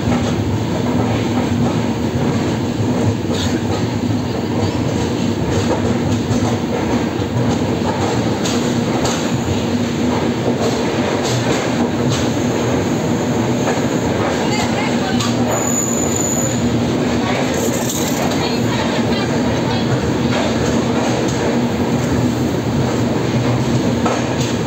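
The Madurai–Tirupati summer special express, a three-tier passenger train, runs along the line with a loud, continuous rumble of wheels and faint clickety-clack, with brief wheel squeals, heard steadily from inside the coach with no talking.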